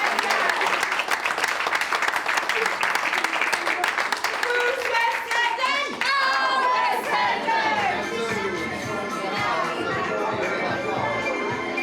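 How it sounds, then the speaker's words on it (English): Dense applause and cheering from a housing estate crowd build loudly, then give way to overlapping shouting and chatter as clapping continues underneath. "So massive round of applause to all of you."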